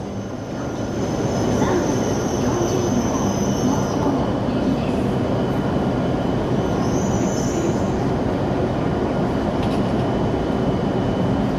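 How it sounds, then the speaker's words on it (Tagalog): A Japanese Shinkansen bullet train rushes past at a station in a steady, loud roar of wheels and air that builds over the first second and then holds, with faint high squeals mixed in. "Ayan yung bullet train."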